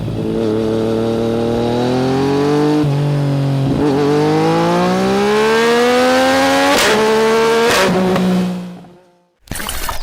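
Suzuki GSX-S1000 GT sport-touring motorcycle, 2023 model, pulling hard through the gears with a loud, steady engine note that rises, drops at each shift, then cuts out near the end.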